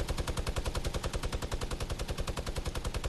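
A minigun in the video game Fortnite fires in one sustained, rapid burst of loud, densely packed gunshots that continue without pause from start to end, with no voices over it.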